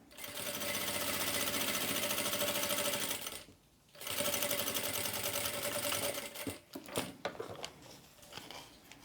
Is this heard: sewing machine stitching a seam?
yes